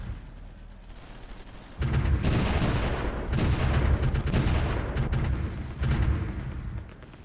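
Artillery fire rumbles in the strategy game Supreme Ruler Ultimate as a dense, continuous barrage of booms and explosions that swells loudly after a quieter opening and stays heavy throughout.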